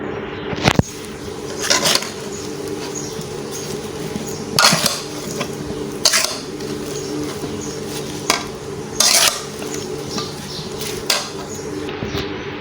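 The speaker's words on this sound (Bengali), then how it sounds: "আমি এখন সম্পূর্ণ মশলাগুলি মিশিয়ে দেব আমের সাথে" Raw green mango pieces being tossed with spices for pickle, close scraping and clattering of a utensil against a bowl in irregular strokes over a steady background.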